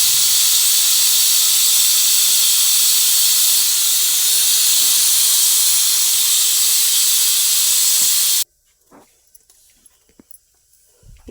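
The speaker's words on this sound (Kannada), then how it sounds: "so cooker vigil ಕೂಗಿದೆ" A pressure cooker whistle releases steam in a loud, continuous hiss that holds steadily for about eight seconds and then cuts off abruptly, leaving near silence with a few faint knocks.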